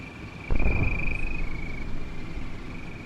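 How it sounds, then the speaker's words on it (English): Frogs croaking in the Combat Mission war game, a steady droning chorus with a thin high tone running through it and a brief louder burst near the start, no talking. "Those frogs are loud."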